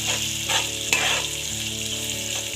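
Fish pieces go into cooked-down tomato in a hot pan for a Telangana-style red chilli fish curry, a loud close sizzle with bursts of spattering as they land.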